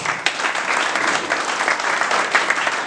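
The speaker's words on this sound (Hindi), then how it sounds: "एक बार जोरदार तालियां" Steady, loud applause from a theatre audience greets cast members at the close of a stage play, a dense uninterrupted patter of many hands filling the whole moment.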